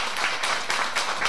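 An audience at a charity association's education meeting in Taichung claps in a dense, even patter. The short burst of applause is moderately loud and has no other sound over it.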